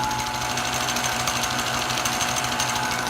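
A 100 amp generator runs steadily at 3,400 RPM, a continuous close, even mechanical drone with a fine rapid rattle and no pauses.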